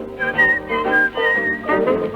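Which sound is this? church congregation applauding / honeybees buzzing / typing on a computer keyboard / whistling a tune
whistling a tune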